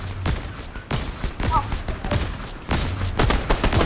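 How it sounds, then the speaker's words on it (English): Gunfire in Fortnite comes in several sharp, close bursts spread across the moment, some overlapping, as the shots are aimed at the player. "Somebody's shooting me."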